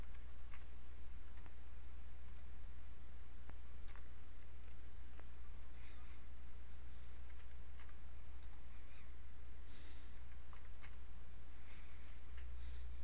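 Soft, scattered keyboard clicks tapping out at an uneven pace, quiet and close, over a steady low hum.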